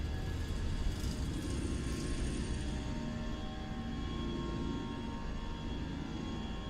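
A jet airliner's engines roar in Microsoft Flight Simulator 2024 as it rolls down the runway and climbs away. The steady, loud, broadband rumble holds evenly throughout with no talk.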